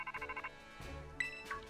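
A Rotom Phone rings in the video game Pokemon Scarlet: a quick run of bright, pulsing electronic chime tones, then a lower swell and two sharp synthetic pings, all close and fairly quiet.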